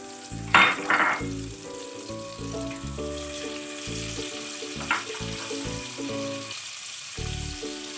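Catla fish steaks marinated in lemon, salt and black pepper frying in oil and butter, a steady sizzle with a louder hiss early on, then soft scraping and stirring under background music.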